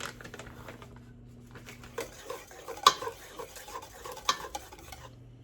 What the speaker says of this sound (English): But I'm going to whisk it after each addition